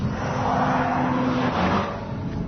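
A Rover 75 V8 saloon pulls hard out of a corner, its engine note rising steadily under throttle as a continuous, fairly loud drone with a short shift-like dip near the end.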